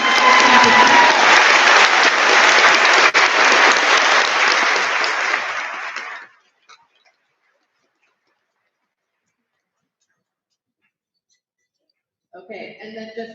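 Applause from an audience at a school promotion ceremony, a dense burst of clapping lasting about six seconds before cutting off into silence, followed by faint voices at the end.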